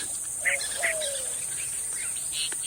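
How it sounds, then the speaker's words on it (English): Bird calls in an Arizona state park on a hot summer morning, yellow-breasted chat and white-winged dove, give short whistles and chirps at a middle distance over a steady high insect buzz. "Predominant calls are yellow-breasted chat and white-winged doves."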